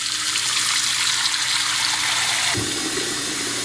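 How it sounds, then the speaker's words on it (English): Water runs into a crock, a loud, steady rushing pour that fills the space from start to finish, with the tone shifting deeper partway through as the level rises. "Let's get some water in our crock."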